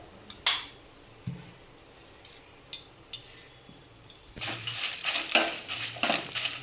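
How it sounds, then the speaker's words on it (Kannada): Dried Byadgi red chillies frying in a little oil for homemade vangibath masala, with scattered utensil clinks and scrapes early on, then a denser, louder crackling sizzle with stirring in the final seconds. "ಅದಕ್ಕೆ ಸ್ವಲ್ಪ ಆಯಿಲನ್ನು ಹಾಕಿ ಫ್ರೈ ಮಾಡೋಣ"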